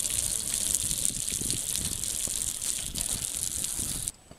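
A garden hose sprays water steadily across solar panels, a continuous loud hiss and splatter that cuts off abruptly near the end.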